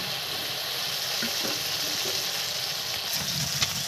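Chicken meat fries in spiced oil in a pan. A steady, close sizzle crackles throughout, with a few soft clinks, and no one speaks.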